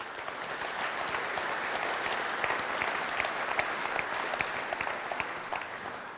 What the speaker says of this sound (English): Applause for Gerhard, please